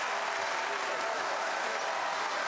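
Pro-Gonzaga crowd behind the Gonzaga bench at a Portland vs. Gonzaga men's college basketball game, standing and cheering: a dense, steady wash of applause and crowd noise that holds at an even level for the whole stretch.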